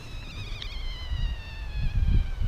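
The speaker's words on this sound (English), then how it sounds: "it was like a little buzzing noise" Thin, steady high-pitched buzz from brake fluid leaking through the bleeder valve of a 1984 Honda 650 Nighthawk motorbike, close and faint over low handling noises.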